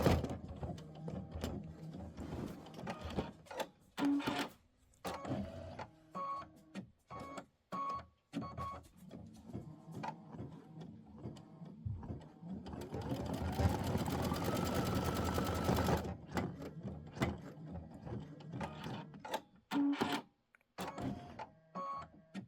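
An embroidery machine stitches out a block of the Kimberbell Wallflower Mystery Quilt, whirring in rapid rhythmic bursts broken by short pauses, with a sustained rising whine during a longer run in the middle.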